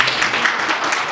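Audience applause at a Nepali film development board event: a dense, steady wash of clapping from a crowd, filling the short moment without pause, moderately loud.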